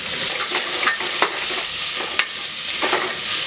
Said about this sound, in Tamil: இப்போ இதெல்லாம் ஒன்றா போட்டு பொரியட்டும்